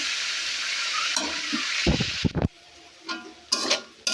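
Onions frying in a pan for beef roast give a steady sizzle and hiss, broken by a few scraping stirs of a spatula near the end.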